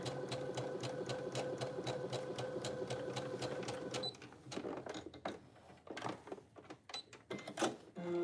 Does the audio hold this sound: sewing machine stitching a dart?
yes